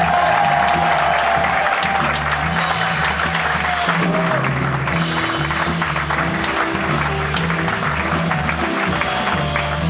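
Audience applause at the San Vito Jazz 2012 concert, loud sustained clapping from a crowd that holds steady throughout, with a murmur of crowd noise mixed in.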